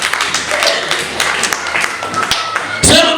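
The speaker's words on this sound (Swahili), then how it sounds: "Pigie Bwana makofi na vigelegele." A church congregation claps together for the Lord at an Easter service, a steady close clatter of many hands with voices rising over it and a louder burst near the end.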